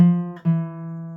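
Single sustained guitar notes from a chromatic bluesy melody played on the fourth string, one long ringing tone, a brief break, then another note held steadily, clean and alone.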